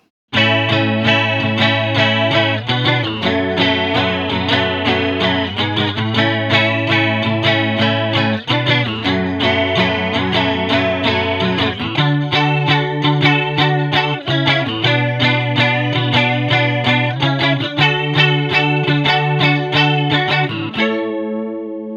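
Electric guitar through a Boss Waza Craft chorus pedal strums a steady chord sequence, shimmering and full, loud and up close, with a final chord fading away.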